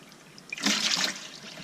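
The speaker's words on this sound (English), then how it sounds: "And over here we have cold water" Cold water rushes from a tap with good flow inside an off-grid roundhouse, starting abruptly and continuing as a close, steady splashing stream.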